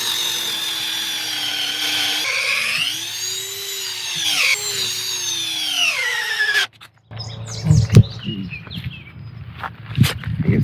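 Cordless drill boring into material on a homestead, a loud sustained whine with rising and falling pitch as the bit loads and speeds up, then stops abruptly; afterward come scattered clunks and handling knocks.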